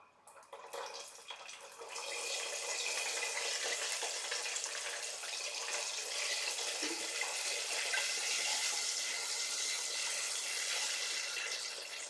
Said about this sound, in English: we're going to put these karaage pieces back in the oil